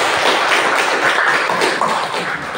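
Students in a classroom applaud a classmate, a dense burst of clapping from many hands, loud and steady for a few seconds with no talking over it.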